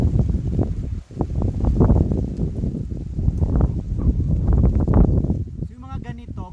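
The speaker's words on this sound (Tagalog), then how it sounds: "Lakas talaga ng hangin." Strong gusts over an open farm field where cassava is being planted buffet the microphone in loud, uneven low rumbles that rise and fall, with a brief hiss and faint movement near the end.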